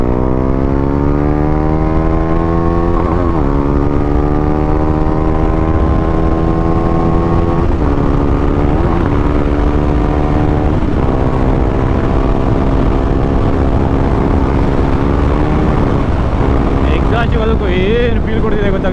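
A 390 motorcycle fitted with a barrel exhaust riding along, a loud steady engine drone with rising and falling pitch through gear changes and heavy wind rush, close to the rider throughout.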